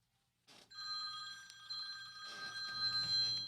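Bell-style telephone ringer trills in bursts, a bright metallic ring cutting in after near-silence, pausing briefly, then ringing again close and clear without any voices.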